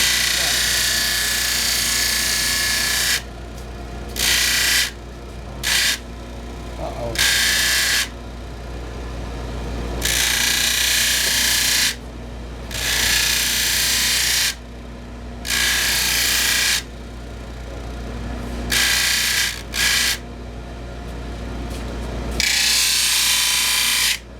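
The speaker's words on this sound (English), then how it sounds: "you're starting with the rough grit wheel to basically take all the material off to get it pretty close to the shape" Harsh grinding of a rough grit sanding wheel shaping a tobacco pipe, loud and close, cutting in and out in repeated bursts of varying length as the workpiece is pressed on and lifted off.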